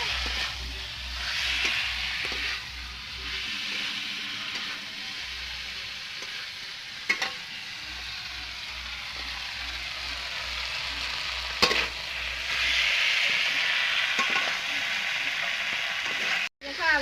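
Chicken fries in a pan, sizzling steadily while a spoon scrapes and stirs it in repeated rhythmic strokes, with a few sharp clinks of metal against the pan.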